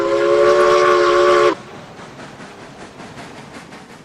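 A steam train whistle from the Railroads Online video game, a loud chord held for about a second and a half that then cuts off and leaves a low rumbling rail background.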